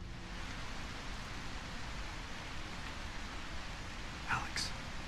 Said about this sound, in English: Thank Christ for the rain.